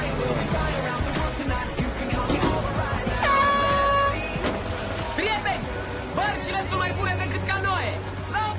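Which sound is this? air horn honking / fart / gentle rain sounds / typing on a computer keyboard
air horn honking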